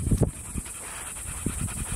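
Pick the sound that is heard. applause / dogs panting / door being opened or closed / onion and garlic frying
dogs panting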